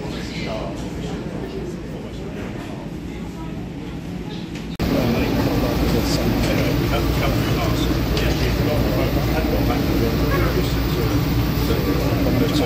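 Inside Dubai International Airport, an automated metro train running to the gates gives a quieter hum that jumps into a louder, steady rolling roar, while a person talks over it.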